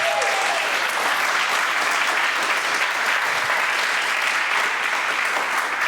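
An audience at the Game Jam Plus European Final in Funchal, Madeira, claps in a steady, sustained roar that stays even from start to finish, with no voices above it.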